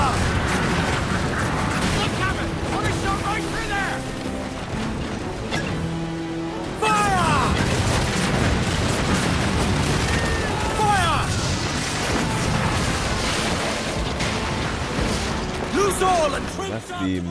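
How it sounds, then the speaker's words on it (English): Heavy booms and crashing impacts from mortar fire and naval combat in Assassin's Creed Black Flag, a pirate game, with repeated blasts, debris and mechanical clatter under loud battle noise and voices talking. "A mortar shot."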